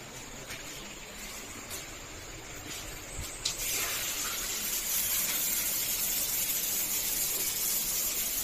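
Strong-flowing shower in a campsite washroom, a soft hiss that bursts into a louder steady rush of spraying water partway through and keeps going.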